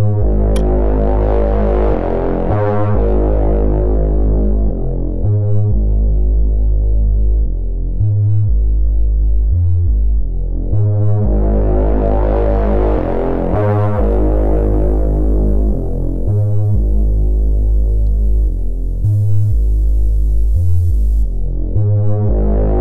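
Distorted synth bass patch from the Vital synthesizer for a drum and bass line, with loud sustained gritty low notes that glide and pulse in a repeating pattern, broken by short rhythmic gaps and rising swells, with no voices.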